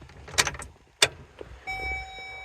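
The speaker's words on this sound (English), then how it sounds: "And now I'm going to turn the key on." Ignition key turned in a 2003 GMC truck: a couple of metallic key clicks and jingles, then a steady electronic chime tone sounding from the dash as the ignition comes on, close and fairly quiet.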